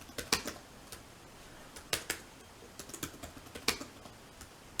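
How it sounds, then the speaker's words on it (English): Typing on an HP ProBook 450 G6 laptop's chiclet keyboard: irregular bursts of crisp, close key clicks with short pauses between runs, alone with no voices. "So as I awkwardly type on this a little bit"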